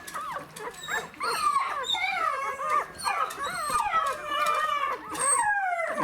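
A dog behind a barrier whines and whimpers continuously, high-pitched yelps and plaintive howls rising and falling, fairly close by.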